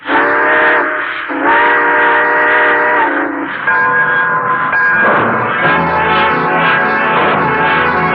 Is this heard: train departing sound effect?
yes